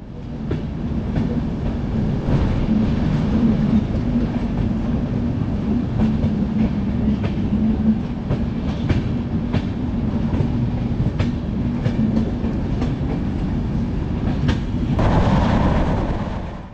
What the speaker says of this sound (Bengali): ট্রেন এসএমভিটি বেঙ্গালুরু স্টেশন ছেড়ে এগিয়ে চলল। ট্রেনের গতি এখন খুবই কম।